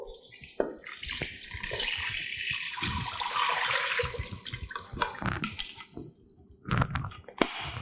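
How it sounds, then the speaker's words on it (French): Water is poured loudly and continuously into a soup pot of Moroccan harira for several seconds, a broad splashing rush. It thins near the end, and a few knocks of the pot and a clatter follow. "On rajoute l'eau."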